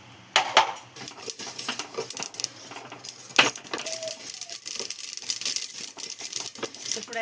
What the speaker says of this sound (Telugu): కంచుడు వేడైంది, నువ్వులు వేసుకుందాం.